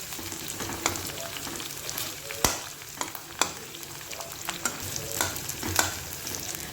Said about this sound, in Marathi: चमच्यानेच आपण कांदा सुट्टा करून घेऊया।